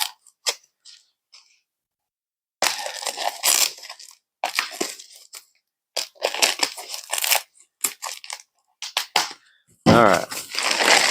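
A dull knife slices and tears through the cardboard and plastic packaging of a 2WD camper van suspension lift kit, producing close, loud bursts of crunching and scraping separated by short pauses.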